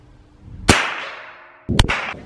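Two sharp small-bore rifle shots fired at a 50 metre target on a shooting range, each a loud crack with a ringing decay, spaced about a second apart with nothing else heard.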